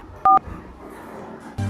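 Two short, loud dual-tone keypad beeps from a mobile phone being dialed, then a burst of room noise, with no one talking.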